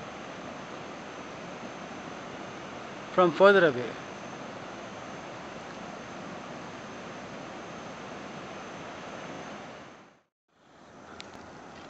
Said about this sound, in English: the ever existing roar of the fall is present